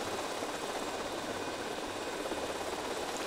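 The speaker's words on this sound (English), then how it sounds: "It is such a worse way to fly an aircraft" A helicopter flown in Grand Theft Auto: Vice City gives off a steady, loud engine and rotor drone that fills the whole stretch with no voices over it.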